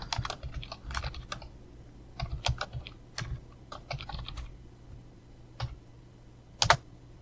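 A computer keyboard being typed on while Python code is written: quiet, irregular clusters of crisp key clicks with short pauses between bursts, heard alone.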